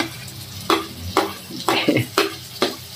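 Garlic and ginger frying in a pan for Khag-Gay fish curry, a low sizzle broken by about six sharp spatula strikes against the pan in uneven rhythm, close and clear, without speech.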